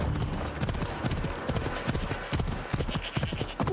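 Horse hooves galloping in the video game Assassin's Creed Odyssey, a steady fast clip-clop rhythm that runs throughout, close and prominent, with faint game ambience behind it.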